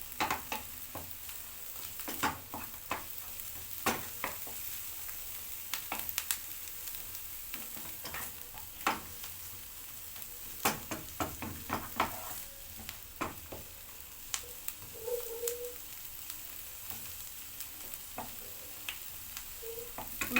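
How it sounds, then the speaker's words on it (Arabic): Pigeon liver and gizzards sizzle gently in a little butter with onion, a quiet continuous hiss broken by frequent light clicks and scrapes of stirring. "في حته زبده صغيره عشان انزل عليها بالكبد والقوانص بتاعت الحمام"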